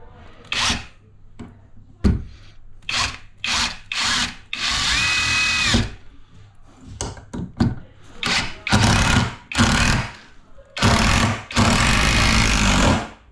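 A power drill drives 100mm screws into a timber non-load-bearing wall, loud and close, in repeated bursts of whining motor lasting one to two seconds each, separated by short pauses.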